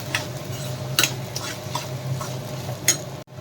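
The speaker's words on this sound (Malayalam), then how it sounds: "നന്നായി ഇളക്കുക." Minced ginger and garlic frying in a pan while being stirred, a steady low sizzle under a few sharp utensil scrapes and clinks, close and moderately loud with no talking.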